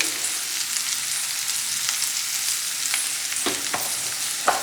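Cluster beans cook with a steady hiss in a pan, with several sharp scraping stirs near the end and no talking.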